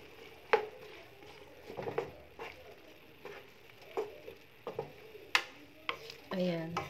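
Guava stew (gisadong bayabas) is stirred in a pan, with a quiet close sizzle under a series of distinct scrapes and taps of a spoon against the metal at an uneven pace.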